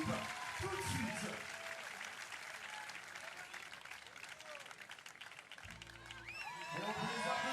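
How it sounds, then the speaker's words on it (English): Crowd applause and clapping at a FIBA 3x3 women's basketball finals in Bordeaux, a steady wash of hands from the stands with an announcer talking over it, swelling again near the end. "vous allez pouvoir regagner la sortie, là-bas sous les applaudissements de la place"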